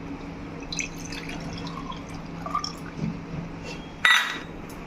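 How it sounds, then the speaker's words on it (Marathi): Coconut water is strained and poured into a glass at home, scattered small drips and trickles, then a brighter clink and splash near the end, close and fairly quiet with no talking. "आई मला गाळून देते नारळाचं पाणी."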